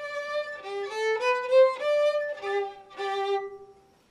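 A violin plays the opening two measures of the Minuet in G, a short run of clear bowed notes in a lilting rhythm, close and moderately loud, with no talking.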